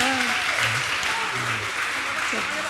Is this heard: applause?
yes